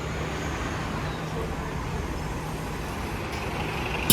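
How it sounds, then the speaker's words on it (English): The 900 Airport Express Nova bus arriving at Kipling Station bus terminal in Toronto, a loud steady engine rumble mixed with traffic noise, ending in a sharp burst like an air brake release. "that is the 900 Airport Express bus"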